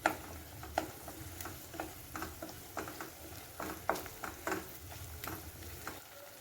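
Onions, green chillies and ground paste stirred in a pan produce repeated close scraping strokes and clacks over a continuous sizzle of frying.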